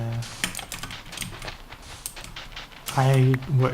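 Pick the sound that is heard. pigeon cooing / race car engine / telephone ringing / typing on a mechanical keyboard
typing on a mechanical keyboard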